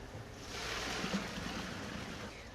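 Cooked bucatini pasta poured into a strainer to drain, a steady close rush of splashing water and steam lasting a couple of seconds without pause.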